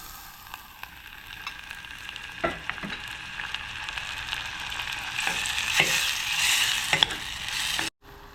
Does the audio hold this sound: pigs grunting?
no